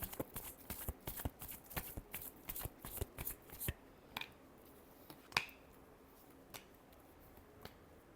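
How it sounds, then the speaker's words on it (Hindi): Tarot cards are riffled and shuffled in a fast run of crisp, close flutters and snaps, then the pace slows to a few isolated taps and flicks with quiet gaps between. "Last shuffle."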